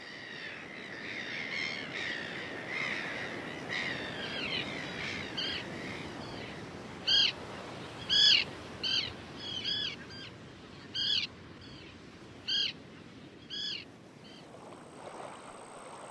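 Seabirds such as gulls and terns calling along a wild coastline, with a series of sharp, fairly loud squawks in the second half rising over a steady background of surf and wind.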